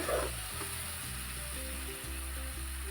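Fish curry masala fries in a pan with a steady, close sizzle, low hum and faint stirring tones running underneath throughout.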